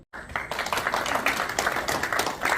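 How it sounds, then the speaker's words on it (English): An audience at a business leaders forum in Korea gives a steady round of applause, dense overlapping claps filling the room for a couple of seconds after a brief silence. "Round of applause."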